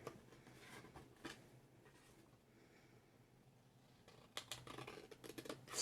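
Scissors cut away a panel of card stock along score lines for a candle box. The snips are faint and intermittent in a quiet room, with no voice heard.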